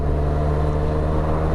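Steady engine drone from a 2023 Benelli 502 TRK adventure motorcycle while riding, a constant low hum with wind rush and no change in pitch.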